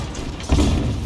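A tank loader in Armored Warfare rams a squash-head shell into the breech of an FV101 Scorpion, a short mechanical slide ending in a solid metallic thunk about halfway through, with no talking.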